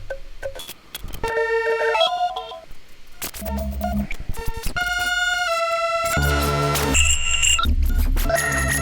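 Randomized synthesized tones from a resonator bank plugin in an abstract horror soundscape: pitched beeps and chimes change unpredictably, then layer into a dense, harsh wash that grows louder toward the end.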